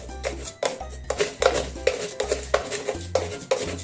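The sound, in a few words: stirring homemade curry roux with a spoon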